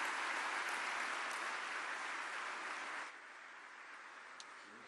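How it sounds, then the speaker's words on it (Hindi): Applause welcoming the Prime Minister at the inauguration of the Integrated Transit Corridor at Pragati Maidan: a sustained, fairly distant wash of crowd clapping that thins and fades after about three seconds. "जोरदार तालियों से स्वागत माननीय प्रधानमंत्री जी का।"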